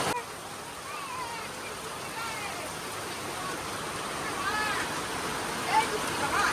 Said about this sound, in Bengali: চলো তোমাদের দেখাই কেমন আমাদের এখানে বৃষ্টি হচ্ছে